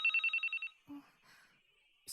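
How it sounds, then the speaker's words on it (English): A mobile phone rings in a visual novel video game, a quick trilling electronic pulse pattern lasting under a second before falling quiet, followed by faint soft clicks. "And then someone's phone rings."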